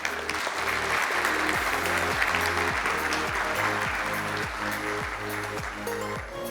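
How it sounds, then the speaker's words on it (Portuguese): Audience applause welcoming a speaker to a talk on the opening of a time capsule: steady, dense clapping from a crowd, with a rhythmic musical bass pulse running underneath. "Senhoras e senhores, uma salva de palmas para Márcio Abraham."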